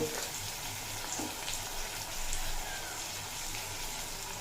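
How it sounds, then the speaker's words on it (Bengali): Chickpeas and spices such as turmeric and coriander powder sauté in a pan, giving a continuous close, soft sizzle and crackle without speech. "দিয়ে আবারও এক মিনিট মতো কষিয়ে নেব"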